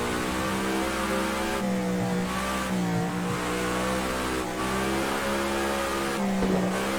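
A 1966-era vintage race car in Project Cars 2, its engine droning and revving loudly and continuously with pitch rising and falling through gear changes while it oversteers and drifts through a corner, no talking.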